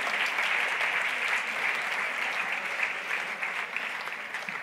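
A conference audience applauds a business panel speaker, a sustained, even burst of many hands clapping from start to finish, fairly close and full.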